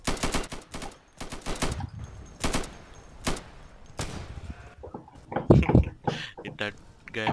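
Rapid gunfire from a hardcore co-op match of the video game Insurgency against aggressive bots, several sharp bursts and single shots spread through the stretch, with a louder close cluster near the end and a player talking between them.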